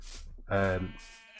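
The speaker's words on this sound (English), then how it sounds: "So we've got some different coloured sheep" A Minecraft sheep in a farmyard gives a single short bleat in the middle, with brief faint sounds before and after.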